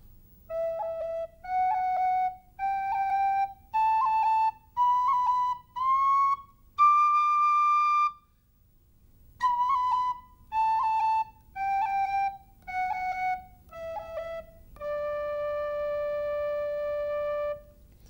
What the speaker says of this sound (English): So I'm going to start at the bottom of the whistle and do rolls for you once more.